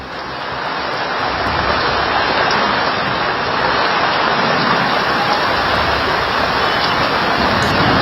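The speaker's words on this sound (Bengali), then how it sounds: "কলকাতা সহ দক্ষিণবঙ্গের একাধিক জেলায় বজ্রবিদ্যুৎ সহ ভারী বৃষ্টি হচ্ছে" Heavy rain pours steadily and loudly during a thunderstorm in Kolkata, a dense continuous roar with no distinct thunderclaps standing out.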